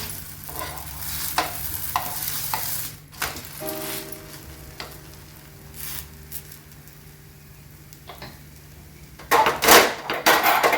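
Egg thalipeeth fries in a little oil on a pan, a soft continuous sizzle with occasional clacks of a spatula spreading oil and flipping, louder scraping bursts near the end; no talking.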